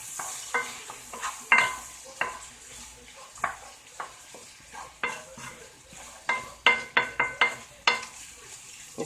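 Shrimp sizzle in a pan while a utensil stirs them, giving repeated scraping and clinking strokes in an irregular rhythm over a faint, steady frying hiss, close up and with no voices.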